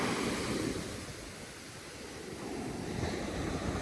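Ocean waves wash onto a long sandy beach at Half Moon Bay in January, a continuous broad roar of surf that swells, eases slightly, then builds again, with some wind buffeting the microphone.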